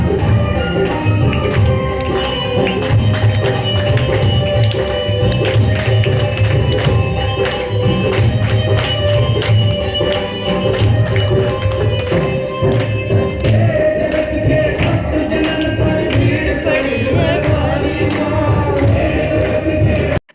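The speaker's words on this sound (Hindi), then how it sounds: "आरती चालू हो गई, मोहल्ले वाली आवाज़ आ रही है।" Neighbourhood temple aarti prayer ceremony in full swing, with dense rhythmic tapping percussion and ringing bells over a steady, loud wash of devotional sound that carries on throughout.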